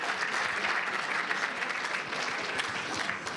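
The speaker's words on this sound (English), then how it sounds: "Let's give one hand, another hand of applause to Richard Myers." An audience at a bitcoin expo lecture applauds a speaker with steady, dense clapping. It sounds full and sustained at moderate level throughout, with no voices.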